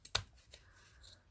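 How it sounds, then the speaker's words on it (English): Scissors make a short, close snip through 3-inch ribbon while a curved cup hair bow is being shaped, followed by a couple of fainter cutting sounds with no talking. "so we can take our scissors, and like I said, using that edge here as a guide."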